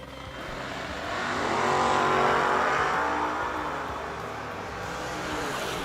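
Drag racing cars, a 1970s Chevy Vega and a 1970 Camaro, launch together with loud roaring engines that swell to a peak mid-clip and stay strong at a raceway.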